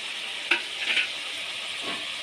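Fried gluten pieces dropped into a hot pan for a spiced gluten curry and stirred, giving a loud continuous sizzle with a couple of sharp spatula scrapes, no talking.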